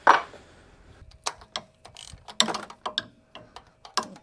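Ratchet cranking a bolt loose on a Foxbody Mustang: bursts of sharp metallic clicks in quick short runs with pauses between, close up and fairly quiet, with no talking.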